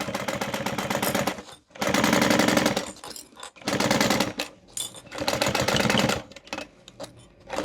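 Sewing machine stitching a zipper panel on a handbag, rapid rattling bursts of stitching in several runs separated by short pauses, loud and close, with no talking.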